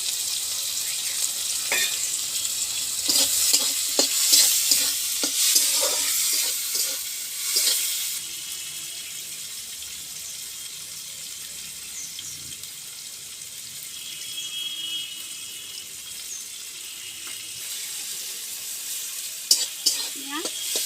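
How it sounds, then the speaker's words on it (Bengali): Onions and tomatoes fry in a pan for fish curry, giving a steady soft sizzle with scattered stirring clatter near the start and end. "পেঁয়াজ আর টমেটোটা ভাজা ভাজা হয়ে গেছে"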